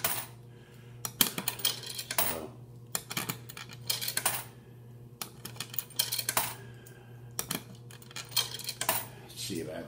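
Coins are fed one after another into a coin-operated laundromat washing machine, giving sharp metallic clinks and drops in irregular bursts, up close over a faint steady hum.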